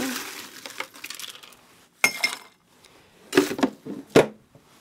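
Ice cubes dropped into cocktail glasses for a 1931 Daniel de Rouge, several bright clinks and rattles in bursts, close and alone with no talk.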